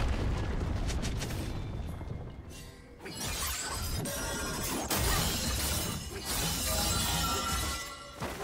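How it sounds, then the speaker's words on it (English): An enemy turret in League of Legends is destroyed with loud crashing, shattering bursts and booming impacts in repeated waves, dense and close amid game effects. "Red team's turret has been destroyed."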